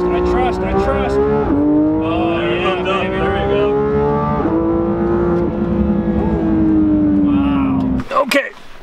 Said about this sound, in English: you just let off the brake and launch control takes care of it